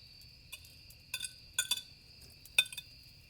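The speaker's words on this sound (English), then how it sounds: "the occasional clinking of a wooden spoon against a pot as William heats up their meager" A wooden spoon clinks against a pot as a meager dinner is heated, giving a few light, sparse taps at an irregular pace against a quiet low background hum.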